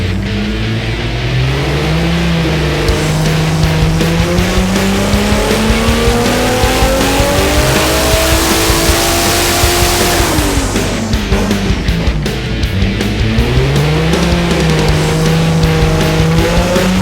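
A 1JZ-swapped Nissan 350Z on a dyno, its engine revving loudly and steadily up and down through a long, close, continuous roar, with no speech.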